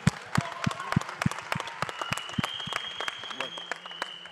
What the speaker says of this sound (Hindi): एक बार जोरदार तालियां हो जाएं यार